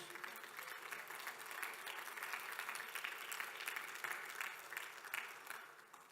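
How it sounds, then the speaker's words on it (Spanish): A church congregation claps for God during a Spanish-language Bible study, a dense, steady patter of many hands that holds at moderate loudness for about six seconds without letting up. "Démosle palmas a nuestro Dios."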